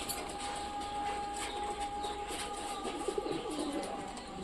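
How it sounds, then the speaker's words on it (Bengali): Pigeons settling on a roof after feeding, with soft cooing and wing sounds over a steady broadband background hiss and a faint continuous tone; no speech. "দেখতে পাচ্ছে সব কবুতরগুলো চালে উঠতেছে ধীরে ধীরে"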